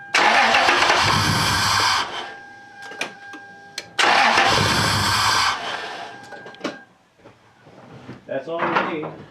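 A Toyota 4Runner 3.4 engine cranks during a compression test in two loud bursts of roughly two seconds each, separated by a pause. Quieter clicks and handling noises follow, and a voice speaks briefly near the end.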